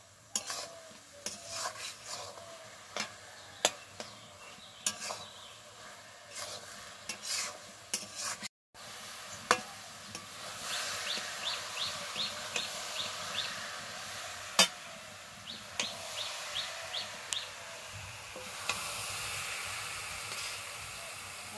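Thickening sugar syrup for motichoor laddu is stirred in a pan over a strong flame, soft repeated scrapes and light sizzling ticking along in quiet bursts, with one brief dropout midway.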